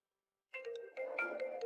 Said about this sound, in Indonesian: Maaf, saya angkat telepon dulu.